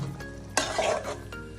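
Malabar spinach with prawns is sautéed in a pan, with a close, lively sizzle and a sudden scrape of a spatula stirring the greens partway through.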